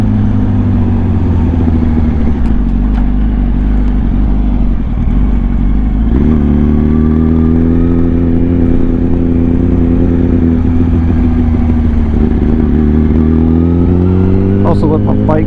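A motorcycle engine runs steadily and loud throughout, its low hum shifting pitch as the bike slows and rolls on, with a rider talking briefly over it.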